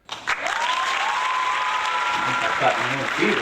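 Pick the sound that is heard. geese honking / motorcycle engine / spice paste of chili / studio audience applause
studio audience applause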